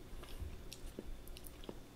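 Quiet, close bites and chewing on a crunchy Girl Scout cookie, a few soft crisp crunches spread across a near-silent background.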